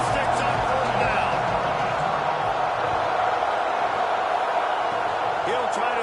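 A stadium crowd at a Maryland versus Michigan State college football game roars steadily and loudly throughout, a dense continuous wash of voices with scattered shouts and no clear break.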